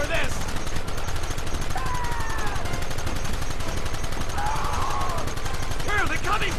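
A Red Dead Redemption shootout roars with dense, nonstop rapid gunfire from several guns, loud and close throughout, with shouting voices mixed in.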